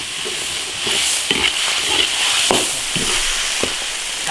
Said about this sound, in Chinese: 香辣酱。炒香，炒出红油。